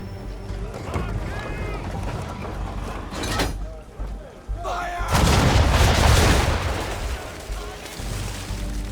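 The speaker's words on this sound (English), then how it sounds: "Now, aim all guns at her bow and do as much damage as possible." Ship cannons fire during a naval battle in the video game Assassin's Creed III, with heavy booming blasts and a big roaring volley midway over the rush of sea and wind, while a voice shouts orders throughout.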